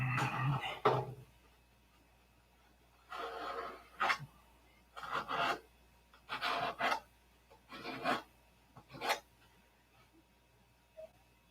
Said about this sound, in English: This stuff here sands so good.